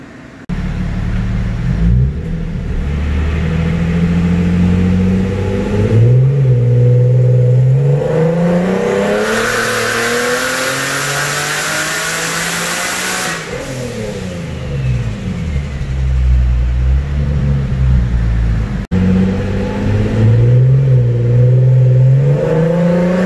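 A turbocharged Nissan 370Z engine runs rough after start-up, idling unevenly with repeated revs that rise and fall, loud and steady at close range, and a hissing rush of air during one longer rev.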